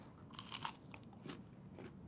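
Close, crisp crunches of a bite into a crispy fried hush puppy seasoned with onion and topped with honey butter, several sharp crackling bursts over a low steady room hum, with no talking.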